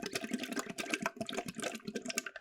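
Bubbling gurgle of air blown through a fully submerged straw into a glass of water, a continuous busy burble of small bursts across the whole stretch, close and fairly loud.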